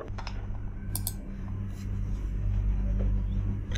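Typing a command on a computer keyboard in the Hive editor, a short run of quiet key clicks over a steady low hum, with no voices.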